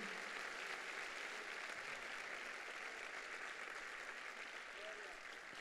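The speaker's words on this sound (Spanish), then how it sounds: "Fuerte ese aplauso a Dios." Applause from a church congregation at a Sunday morning service fills the room as a continuous, moderately distant patter of many hands, with faint voices mixed in beneath the clapping.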